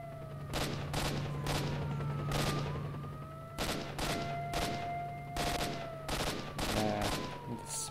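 Gunfire in S.T.A.L.K.E.R.: Shadow of Chernobyl, roughly a dozen sharp shots fired in uneven bursts over a steady low hum and a siren-like wail, fairly loud and close.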